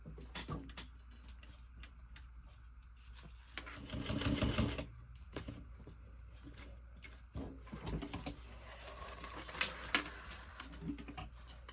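Sewing machine stitching a crossbody bag strap, a quiet rhythmic whir in short irregular bursts with faint handling clicks between runs.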